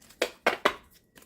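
New tarot card deck shuffled by hand, three sharp riffling bursts close up followed by a faint final flutter.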